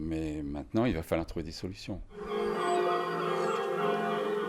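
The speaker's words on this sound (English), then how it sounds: "the bells still ring out atop the abbey" Voices talk briefly, then a sustained, resonant ringing of abbey church bells at Mont Saint-Michel, France, takes over and fills the rest, steady and fairly loud.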